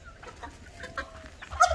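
Chickens cluck softly at close range in scattered short calls, one drawn-out note in the middle, ending with a louder squawk.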